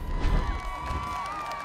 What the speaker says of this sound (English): Well, the crowd is hyped.